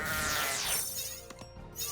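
Cartoonish sheep bleats from the Kingdom Rush tower-defense game, a wavering bleat followed by short clicks and a quieter second bleat, close and clear with no talking.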